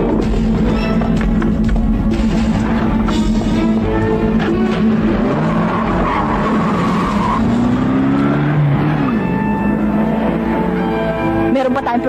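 A car roars away at speed in a Filipino action film, its loud engine rising and revving with tire squeal. A dense, continuous mix of motor noise and possible shouting surrounds it.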